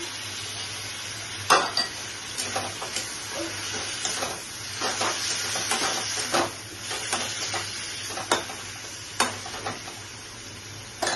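Mutton fried with garlic-ginger paste sizzles steadily in a pan while a utensil stirs and scrapes, with sharp metallic clinks recurring throughout at close range.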